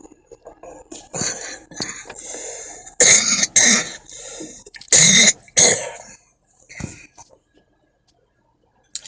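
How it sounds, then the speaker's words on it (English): Several harsh coughs and throat-clearing bursts come in uneven clusters, close and loud, separated by short quiet gaps. "Excuse my cough, I'm just getting over crudditis again."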